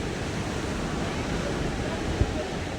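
Big ocean waves surf at Pismo Beach Pier on a sunny day, heard as a steady, broad wash of roaring surf with wind, with no distinct breaking crashes.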